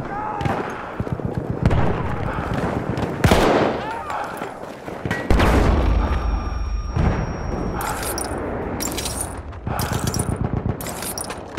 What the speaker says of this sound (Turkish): Bomba atıyorum.